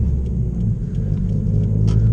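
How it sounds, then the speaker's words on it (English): A tuned 2017 Subaru WRX STI with equal length headers and an external wastegate produces a steady, deep engine rumble, close and continuous with no talking. "It also has a external wastegate,"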